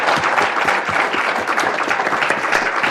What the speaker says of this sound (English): can we give this panel a wonderful round of applause?